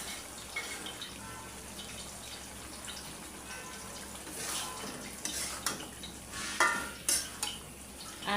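Lightly fried potatoes are stirred into beef liver cooking in a pan, giving soft, steady frying sizzle under close scraping and clattering stirs that grow louder and more frequent toward the end, with no talking.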